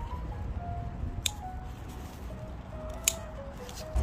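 Oriental melon vine shoots being pruned with shears in a weekend farm plot: two crisp, close snips about two seconds apart, over a quiet outdoor background with faint high tones.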